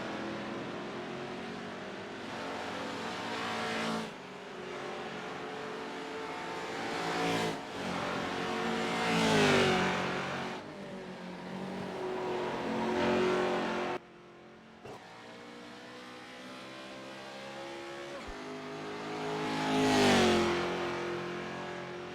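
Pickup trucks race qualifying laps at the Chicago street circuit in the iRacing sim, one engine loud and close, revving hard, dropping on downshifts and climbing again through the gears, with short cuts between cars.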